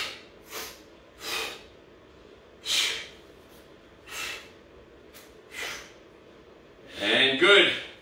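Forceful breaths puffing out in a series of separate exhalations during a shoulder press set at a boot camp strength workout, ending in a louder, longer rasping breath, with no speech.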